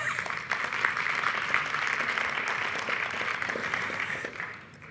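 A conference audience at a sustainable cities session breaks into steady, dense applause lasting several seconds, fairly close and even, then fades out at the end without talk over it.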